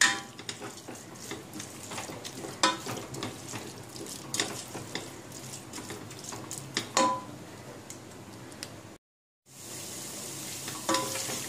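A spoon stirs two tablespoons of unsour yogurt into sizzling channa biryani masala in a pan, giving soft steady frying hiss with intermittent scraping knocks, close up, broken by a brief silence.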